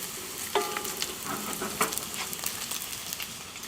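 Onions sizzle in bacon fat in a cast iron skillet, a steady moderate hiss with occasional light scrapes and taps of a spoon against the pan, no talking.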